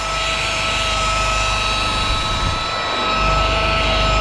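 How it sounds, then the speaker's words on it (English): A rotary buffer whirs steadily and loudly close by, polishing the wet-sanded paint of a Dodge Ram, a continuous motor drone holding its pitch with a brief dip partway through. "Spinning the buffer this way, which is clockwise."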